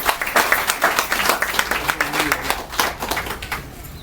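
Crowd applause at an NGO event at an urban health centre, a dense, steady burst of many hands clapping together without pause for several seconds, no talk over it.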